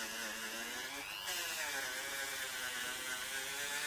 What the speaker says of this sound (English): If you're going to use a Dremel like this, you've got to be incredibly careful that you don't ever hit the chuck against the frets